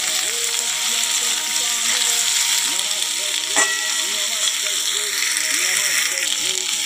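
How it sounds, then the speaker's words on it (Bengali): Vegetables with bay leaves and five-spice sizzle steadily in a hot pan, a continuous close frying hiss with occasional stirring scrapes, and a voice talks over it. "দেখো সবজিগুলো দিয়ে দিলাম, ভালো করে কষিয়ে নেব"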